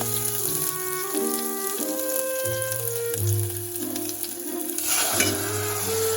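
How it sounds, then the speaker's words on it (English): Green onions fry in a tablespoon of hot cooking oil in a pot, a continuous sizzle with stirring, partly under background music, with a brief louder hiss near the end. "Heat the pot with 1 tablespoon of cooking oil. Use 2/3 of the green onions."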